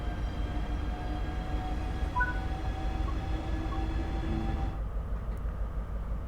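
Trains sit idling in Train Sim World 4, giving off a steady low engine drone with faint tonal hums layered on top; the rumble carries on evenly and then thins out abruptly near the end.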